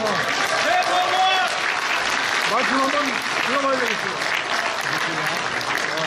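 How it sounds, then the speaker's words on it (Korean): An audience at a talk on the 1980 Gwangju uprising claps steadily throughout, while someone speaks over the applause through the middle. "박수 한번 쳐주십시오"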